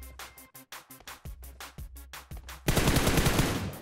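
Gunfire in the mobile battle royale game PUBG Mobile: a rhythmic burst of roughly a dozen sharp, evenly spaced shots, followed by a dense, louder volley of rapid fire.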